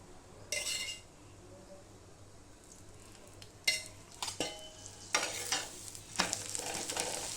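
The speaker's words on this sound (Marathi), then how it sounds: "आपण असं छानपैकी भाजून घेऊया सुंदर भाजलं आहे" A bottle gourd paratha roasts on a hot pan, sizzling steadily while a utensil repeatedly scrapes and clinks against the pan, the scraping growing busier toward the end.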